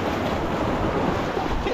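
Ocean waves at sea during pukot net fishing: a constant broadband wash of surf with wind buffeting the microphone, loud and close, with no voices.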